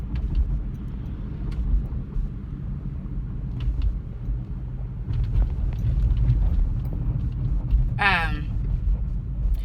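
Car driving, heard from inside the cabin as a low steady road rumble that runs the whole time, with speech over it and a short higher sound near the end.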